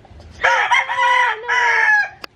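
A rooster crows loudly and close by in two long strained phrases, with faint chicken clucks and rustling in the background before and after.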